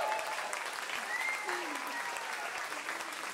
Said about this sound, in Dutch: allemaal even een groot applaus voor Johan.